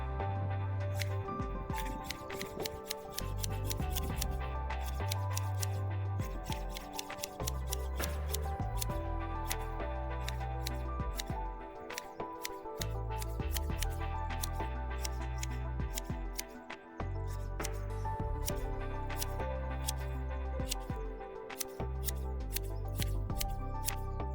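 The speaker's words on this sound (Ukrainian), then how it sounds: "Зараз подивимося, як ці ножиці стрижуть живопліт." Doukan DS006 Japanese hedge shears snip through a hedge in a long run of sharp, crisp blade clicks and cuts, close and steady, with a low hum running underneath throughout.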